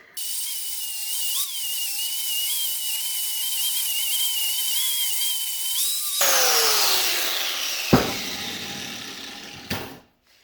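An angle grinder fitted with a flap disc, mounted on a swivel stand, whines at a high steady pitch, then bites into the work with a harsh grinding rasp and a sharp clack before spinning down.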